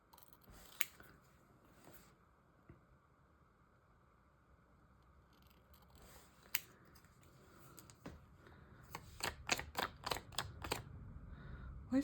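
Scissors cut through magazine paper for a collage in a series of quiet, sharp snips and crisp clicks that quicken toward the end, with soft handling rustle in between.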